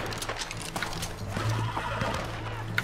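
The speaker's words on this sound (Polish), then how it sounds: "To jest ich koń." A horse neighs loudly and close by in a video game, a short whinny with hoof clip-clop beneath it, alone without speech.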